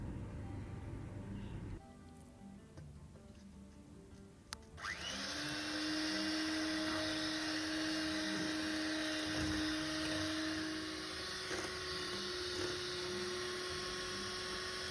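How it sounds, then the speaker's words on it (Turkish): An electric mixer whisks three eggs with half a glass of sugar until frothy, a steady high whirring drone that starts abruptly after a few quiet seconds and runs on evenly and close. "3 adet yumurta, yarım su bardağı toz şeker. Bunları köpük köpük olana kadar çırpalım."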